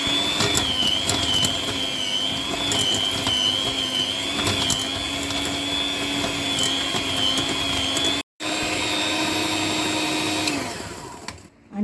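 An electric mixer beats room-temperature butter for a pandan gula melaka cake, giving a steady, high, whirring motor whine that cuts out briefly partway through, resumes, then winds down at the end.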